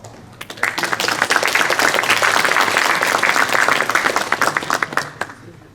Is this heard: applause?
yes